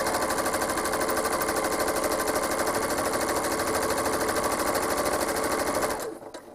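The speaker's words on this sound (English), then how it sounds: "So I'm going to stitch to the left and curve, stitch to the right and curve." A sewing machine stitches curving lines across a quilt, running in a steady rapid rattle for about six seconds before stopping abruptly, close and loud with no talking.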